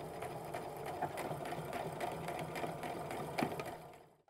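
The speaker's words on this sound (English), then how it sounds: "I'm going to sew up to it and then do my back stitching forward and back to secure those threads" A sewing machine stitching and backstitching an apron pocket seam runs steadily, a close, continuous motor whir with a few brief pauses in rhythm before it winds down near the end.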